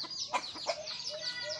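A released lumipol bird, a wild fowl like a jungle rooster, gives a small, thin crowing call outdoors, a few high squeaky clucking notes at moderate distance over a faint background hiss.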